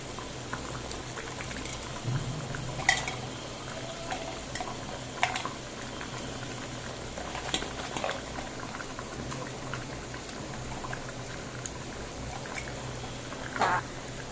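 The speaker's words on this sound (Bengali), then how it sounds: "ঝোলটা কিন্তু ফুটে উঠেছে।" A pot of curry gravy with elephant foot yam and chana dal fritters bubbling at a steady boil, with a continuous close simmering hiss broken by scattered louder pops and plops of bursting bubbles.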